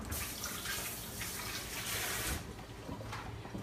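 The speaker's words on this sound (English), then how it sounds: "I'm gonna rinse my hands." Water from a kitchen tap runs steadily as hands are rinsed during salad preparation, a continuous close splashing hiss with slight shifts in the flow, no talking.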